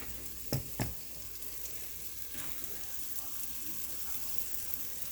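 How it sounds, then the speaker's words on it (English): Greek-spiced tortellini sizzling in a hot cast iron skillet, a soft, steady frying hiss with a couple of sharp clatters near the start and faint scraping. "I got my cast iron skillet getting hot. So nicely coated with this Greek spice."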